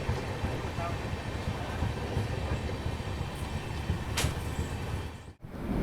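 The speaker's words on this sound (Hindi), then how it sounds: "दोस्तों फ़िलहाल अपनी झारखंड स्वर्ण जयंती एक्सप्रेस यहाँ स्किप कर रही है टुंडला जंक्शन को" The Jharkhand Swarna Jayanti Express rolls through Tundla Junction at low speed, a steady rumbling rattle of wheels and carriage heard from on board, with a brief sharp squeal partway through.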